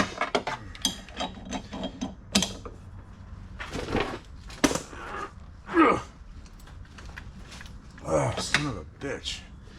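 Ratchet wrench clicking on a driveshaft bolt of a Dodge Challenger, a string of quick sharp clicks in short bursts, broken by pauses and someone talking.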